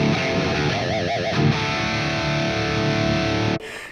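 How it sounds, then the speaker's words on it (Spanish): Heavily distorted electric guitar from a stock Fender Squier with single-coil pickups, a dense, loud wash of sustained buzzing tone with some wavering notes, cutting off abruptly near the end, leaving a quieter hum. "hay una especie de ruido que siempre causa conflicto con los singles cuando tenemos"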